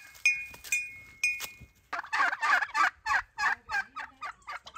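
Domestic turkeys in a village yard gobble in a rapid run of repeated bursts, close and fairly loud, following a few short sharp clinks at the start with no talking.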